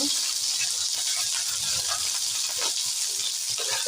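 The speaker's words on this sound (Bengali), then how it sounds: "প্রথমে ফুলকপিগুলোকে হালকা হালকা ভেজে নেব" Cauliflower florets sizzle gently in a pan of hot oil, a steady soft hiss of frying that runs throughout with occasional light stirring noises.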